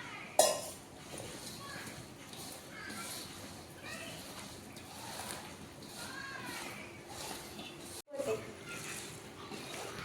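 Mango pickle being mixed with oil in a pot, a spoon scraping and clinking against the metal in irregular bursts, with a louder clatter near the start and again near the end, while a voice talks over it.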